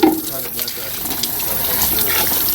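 Tap water runs steadily into a sink as beef is rinsed in a home kitchen in Jamaica, a close, continuous splashing gush with a voice briefly heard over it.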